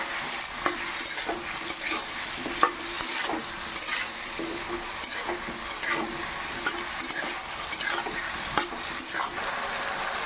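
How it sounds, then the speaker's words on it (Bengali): Ground spices with turmeric and salt stirred and fried in a pan, a steady sizzle broken by repeated scraping stirs throughout, fairly close and alone with no talk. "এবার আমি ভালো করে কষিয়ে নেব।"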